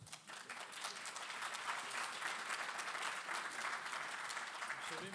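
Sustained, dense audience applause fills a hall at a French political debate forum on Europe's future, steady and fairly loud throughout with brief speech underneath.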